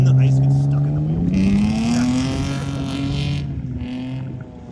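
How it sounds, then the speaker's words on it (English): Drift car sliding on a frozen lake in Georgetown, Colorado, on studded tires, its engine droning steadily and climbing in pitch as it revs, loud and near for the whole stretch. "we are out here in Georgetown, Colorado, doing some ice drifting"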